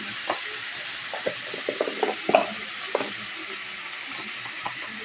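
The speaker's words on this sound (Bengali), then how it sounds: "কালো জিরে আর কাঁচা শুকনো লঙ্কা ফোড়ন দিয়েছি" Nigella seeds and dried red chilli sizzle in hot oil for tempering, a steady close crackling hiss broken by small scattered pops and spits, with no voices.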